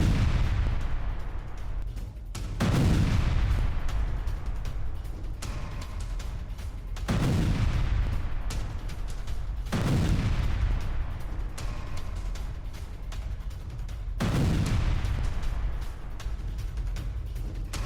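Missile strikes on Metula near the Lebanese border, heard as a run of heavy booming blasts that recur every few seconds, each followed by a rumbling low roar, loud and continuous.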